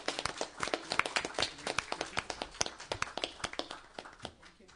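A small audience at a Millville city meeting gives a short round of applause for Miss Mary Messer: scattered, distinct hand claps, fairly sparse and near, tapering off toward the end.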